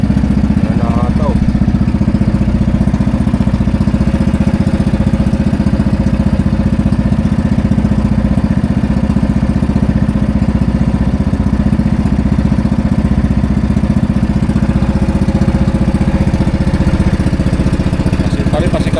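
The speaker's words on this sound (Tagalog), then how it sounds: "Yung kay Pototski na bangka, maliit lang kasi, tapos malaki yata makina nun" A large engine mounted on a small fishing boat runs steadily at sea, its loud low drone and rhythmic clatter constant and close throughout.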